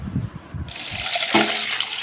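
Water is poured into a vessel of salt and tamarind to dissolve them for a village-style small kendai fish curry. Some soft handling noises come first, then a steady, close splashing pour runs for over a second.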